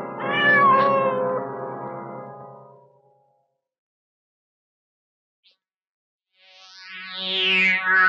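A cat in a classic Hindi film gives a long, drawn-out meow, loud and close, then falls silent before a second rising, wailing meow near the end.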